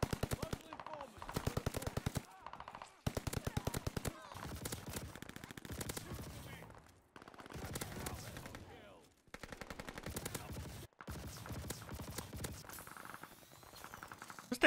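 EX1 energy weapon firing in the video game Warzone: rapid, loud bursts of automatic gunfire separated by short pauses, with faint voice in the background.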